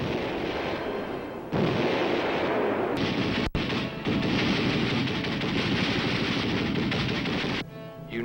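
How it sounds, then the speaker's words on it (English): Infantry weapons firing at the Camp Buckner training ground for West Point cadets, a loud continuous barrage of overlapping gunfire and blasts with one sharp break midway, no voices. "In addition to the M1 rifle, we learned to fire other infantry weapons."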